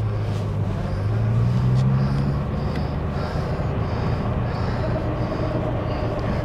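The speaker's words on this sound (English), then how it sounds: "Nice whine in first gear with the old straight cut gearboxes in these girls" Straight-cut first-gear gearbox of a 1954 Rover P4 90 whines steadily over a continuous engine drone and road rumble, heard from inside the moving car at a constant, fairly loud level.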